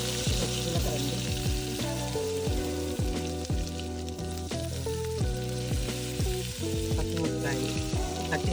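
Cumin seeds sizzle loudly in hot ghee and oil for a tadka, a steady close crackling fry with clicks of stirring throughout.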